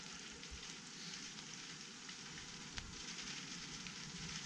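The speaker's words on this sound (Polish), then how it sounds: "No, trochę pada." Light, steady rain patters continuously on a surface, a soft even hiss with no voices.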